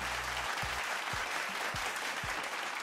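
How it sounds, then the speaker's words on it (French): Audience at an e-sport discussion event applauds steadily, a continuous wash of clapping at moderate distance, with a few low thumps underneath and no voices over it. "on peut applaudir Bruno"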